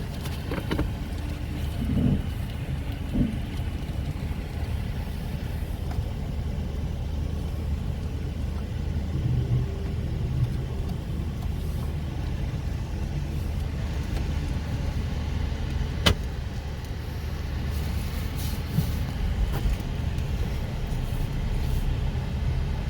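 2024 Mazda 2 1.3 petrol hatchback pulling away and driving on a narrow city road, heard from inside as a low steady engine and road rumble with faint occasional knocks.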